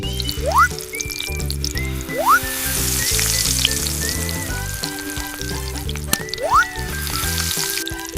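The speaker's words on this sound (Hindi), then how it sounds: "तेल को गरम करके उसमें टुकड़े डालते जाओ।" Tuna fish pieces frying in hot oil in a miniature kitchen, a loud crackling sizzle over a repeating melodic music track with rising chirpy tones, no talking.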